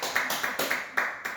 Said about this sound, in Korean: 그럼 박수 한번 해야지,